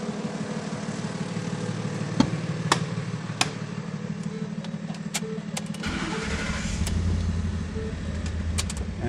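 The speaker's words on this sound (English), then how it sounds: "it'll start like that even when it is a dead battery" A car engine cranks and catches after a jump start on a dead battery, then settles into a steady low idle with a few sharp clicks and knocks on top, close by and with no talk.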